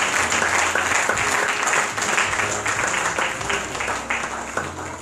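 A church congregation at a pastor's anniversary Sunday service claps and applauds continuously, a dense, steady wash of many hands filling the room throughout.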